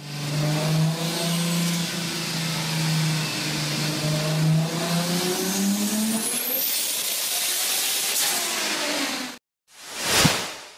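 A turbocharged Toyota Supra sports car engine revs and accelerates, its pitch climbing steadily through the gears, then cuts out briefly before a final loud roar swells and fades.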